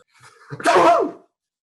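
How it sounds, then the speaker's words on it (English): A single loud, close sneeze, a quick intake of breath bursting into a sharp explosive exhale, then silence. "There's something in this sneeze"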